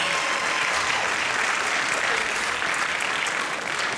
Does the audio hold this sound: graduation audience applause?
yes